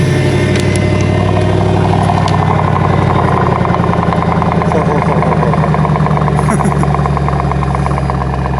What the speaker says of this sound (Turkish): Şöyle bir V8 sesi duyalım ben.